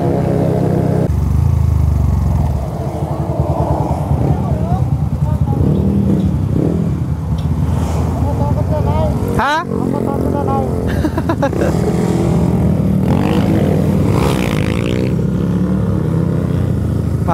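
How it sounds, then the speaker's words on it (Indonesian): A motorcycle at a high-speed riding event in Bacolod revs and rides past with a loud, changing engine roar, rising and falling pitch sweeps and clattering, up close, and voices are heard in the background. "Meron daw rider na susubok sa motor ko,"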